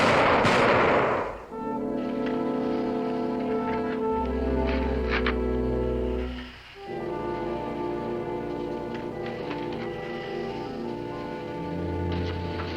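A single loud volley of gunfire from a firing squad in a frontier TV drama cracks out at the start, then gives way to sustained orchestral music.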